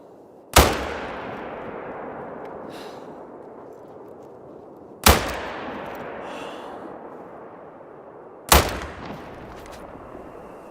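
Three loud, sharp gunshots from a video game ring out at spaced intervals, each a sudden blast trailing off into a long reverberant decay, with quiet background between them.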